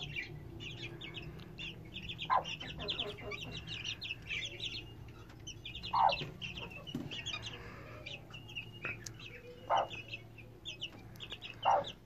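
Soft clucking and peeping from a group of three-week-old Indian Gurk blue chicks, scattered calls repeating over a low background hum, no voices.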